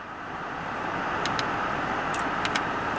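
A Honda Civic LX idling, heard from inside the cabin as a steady, even hum and low rumble with a few faint clicks, no speech.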